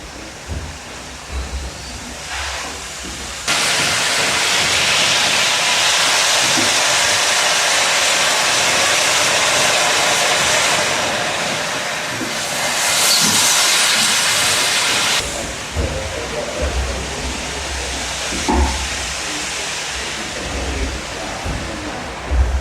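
The Crofton steam beam pumping engine vents a loud, steady steam hiss as its exhaust valve opens, running for about twelve seconds before cutting off. Softer mechanical clanks and valve knocks are heard before and after it.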